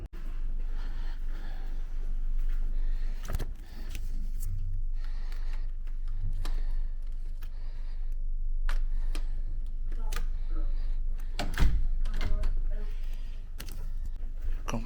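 A hotel room door at Travelodge Manchester Piccadilly is handled with a room key, giving close, sharp clicks, latch knocks and rattles scattered irregularly over a low background hum, with someone speaking now and then.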